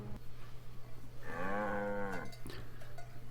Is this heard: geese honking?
no